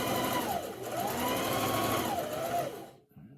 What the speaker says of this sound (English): So I'm going to start sewing this way.